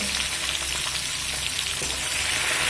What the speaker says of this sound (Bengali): অল্প একটু নাড়াচাড়া করে ভেজে নিয়েছি